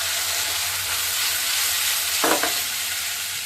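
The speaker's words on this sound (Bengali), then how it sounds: "শুটকিটা একটু ভাজা ভাজা হওয়ার পরে পেঁয়াজটা দিয়ে দিচ্ছি" Dried fish (shutki) frying in hot oil with onions stirred in, giving a steady close sizzle throughout and a short burst of stirring scrapes midway.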